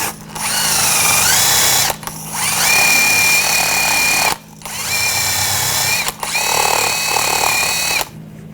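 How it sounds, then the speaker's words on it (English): A wire brush works over a Subaru Forester brake caliper bracket in four loud, whining bursts separated by short pauses, close up and with no talking. "Just use a wire brush."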